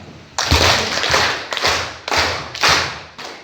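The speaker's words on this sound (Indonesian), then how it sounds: "Saya minta kita buka dengan tepukan tangan 5 kali sama-sama" Audience at a school ceremony claps hands together in unison, five sharp loud group claps spaced about half a second to a second apart, each a crisp burst with a short tail.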